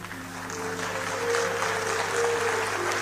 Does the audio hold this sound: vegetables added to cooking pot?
no